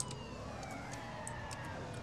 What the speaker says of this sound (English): The sirens are deafening.